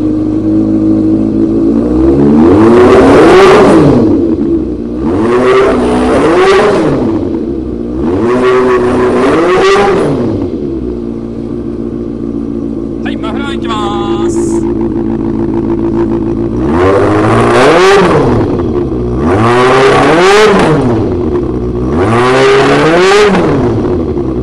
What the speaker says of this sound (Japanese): ではエンジンの方ですね、始動していきたいと思います。